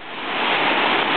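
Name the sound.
waterfall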